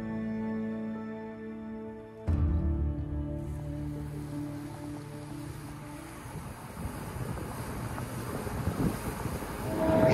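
Steady broadband wind rush buffeting the microphone at a ferry crossing in the Gulf Islands, with a low engine-like rumble and gusts that swell louder toward the end.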